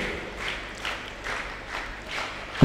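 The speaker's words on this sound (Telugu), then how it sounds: "గట్టిగా చప్పట్లు కొట్టండి." Audience applause at a ceremony where bouquets and gifts are presented, a steady wash of many hands clapping that swells and eases in waves before ending in a louder burst.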